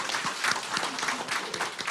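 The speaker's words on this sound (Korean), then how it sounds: "일단 박수 한번 쳐드립시다" A hall of residents at a town-hall style public meeting breaking into applause, a short burst of dense, lively clapping heard up close with no talking over it.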